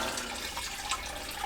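Cold water pours steadily into a plastic fermenter, a continuous close hiss-and-splash of running liquid with no talking.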